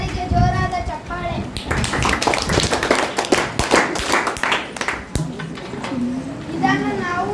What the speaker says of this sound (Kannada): ಇವರಿಗೆ ಜೋರಾದ ಚಪ್ಪಾಳೆ.